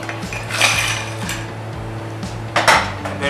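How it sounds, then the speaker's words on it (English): Ice cubes clatter against glass and metal as they are scooped and dropped into a muddled cocktail, with a few sharp clinks and rattles close by and no talking. "We're going to grab some ice."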